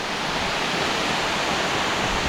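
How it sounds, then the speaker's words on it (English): Love Waterfall in Hoang Lien National Park near Sapa, Vietnam, roars nearby, a dense continuous rush of falling water filling the whole clip without pause. "So this is the Love Waterfall"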